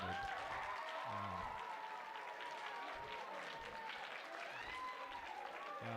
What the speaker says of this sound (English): feel free to clap and hoop and holler if you're excited.